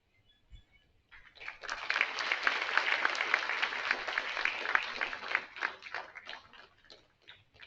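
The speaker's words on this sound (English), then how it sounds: "Let's all give a big round of applause." Audience applause at a silver jubilee celebration, a steady burst of many hands clapping that swells after a short pause, holds for several seconds, then thins out and fades.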